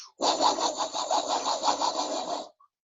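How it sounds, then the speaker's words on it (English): A steady, dense hiss of broadband noise plays continuously for about two seconds at even loudness, then cuts off abruptly. "or it could be pink noise."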